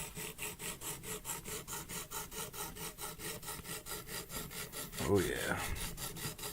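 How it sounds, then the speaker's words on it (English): A knife edge worked on a coarse sharpening stone makes close, rhythmic rasping strokes in an even back-and-forth pattern, with a brief spoken remark over it. "But I got this coarse stone to take it down pretty good."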